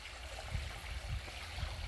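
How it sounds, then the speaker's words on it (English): Steady water flow from a solar-powered swimming pool pump, a continuous close rushing trickle with low gurgling pulses, heard alone with no voices. "The pump is still running okay, and the debit of water is still good"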